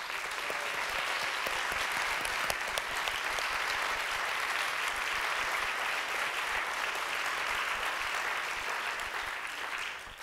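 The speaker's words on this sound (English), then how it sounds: "We'll give them a round of applause." An audience at a cantorial master's concert applauds the school's faculty, a full, sustained roar of clapping that stays loud and even for about ten seconds before tapering at the end.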